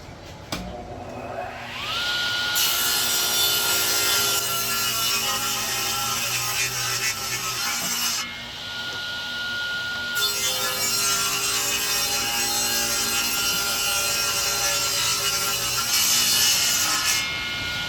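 Table saw cutting wood for a kitchen drawer repair: the blade spins up with a rising whine, then a sustained loud grinding cut with a brief dip midway before resuming, close up and without talking.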